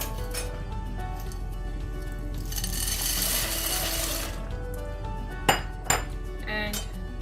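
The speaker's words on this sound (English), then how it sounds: "So give it a good stir." Boxed mostaccioli pasta stirred in a pot of salted water, with a steady swishing scrape through the middle and two sharp metallic clinks of the spoon against the pot near the end; no one speaks.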